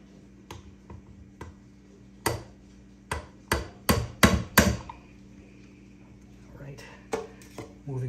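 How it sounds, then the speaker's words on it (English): A hammer strikes a scribe used as a pin punch to drive out a pin on a mixer, sharp metallic taps arriving irregularly, then a quick cluster of harder, louder blows. "I brought up a hammer"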